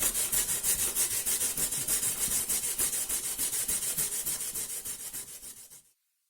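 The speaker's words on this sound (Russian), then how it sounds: "натираю на вот такую вот терку, как для яблочного пюре" Beetroot, about 150 g, peeled and washed, rubbed against a fine apple-purée grater: a fast, even rasping scrape in steady repeated strokes, close and clear with no talk, stopping abruptly near the end.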